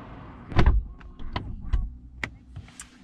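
Door of a 2021 Rolls-Royce Ghost swings shut with a solid, muffled thud, followed by a few lighter clicks and knocks nearby in a quiet setting.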